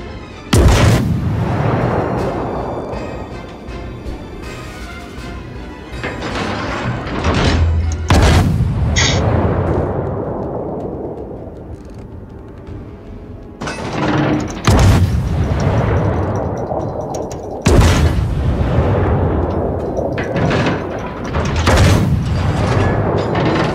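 Heavy naval guns on World of Warships warships boom in loud salvos a few seconds apart, each sharp blast followed by a long rolling rumble, with no talking.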